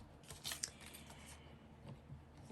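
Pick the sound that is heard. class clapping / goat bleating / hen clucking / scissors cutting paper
scissors cutting paper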